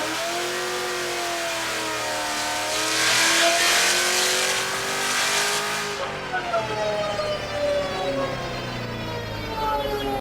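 Modified Corvette C7 Z06 running on a chassis dyno, engine revving hard through rising gears with a loud sustained roar that peaks midway, then drops and climbs again, close and dominant throughout.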